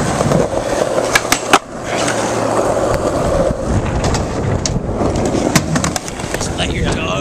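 A skateboard rolls and hits a rail in a trick outdoors, with sharp board clacks and impacts over grinding wheel noise and wind, while people talk nearby.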